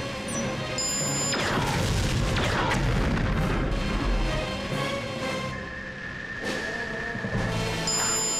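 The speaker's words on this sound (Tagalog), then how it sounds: "Firing! Proton ray!" A proton ray firing blast from an animated action show booms and roars continuously, loud and dense, with a rushing, crashing texture.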